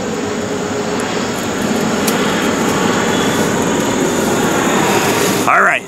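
Steady, loud broadband roar of an airplane passing overhead near an airport beside a farm ditch, holding evenly for several seconds before a brief swell and abrupt cutoff at the end.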